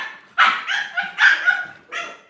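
Puppies of about three months, American Bully pups, bark and yip in quick excited bursts as they chase another dog, close and loud, with a few whimpering tones between barks.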